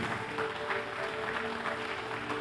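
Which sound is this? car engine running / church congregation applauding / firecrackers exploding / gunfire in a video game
church congregation applauding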